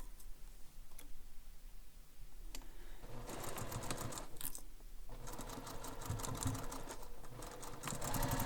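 A sewing machine stitches pieces of a bowler bag together, starting with a few isolated taps, then running in rapid bursts of fast mechanical ticking with brief pauses, quiet and close.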